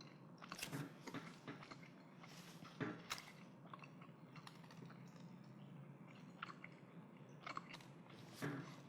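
Gum being chewed close up, with wet smacking bites and soft crunches coming in an irregular rhythm, louder bursts scattered through the quiet and no talking.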